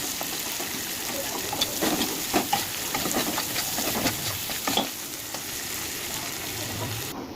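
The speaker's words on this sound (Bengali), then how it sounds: "পেঁয়াজটাকে এবার লাল লাল করে ভেজে নেব।" Chopped onions sizzle and fry in a pan for a Bengali home meal, a continuous crackling hiss broken by scraping stirs and small pops, close and steady.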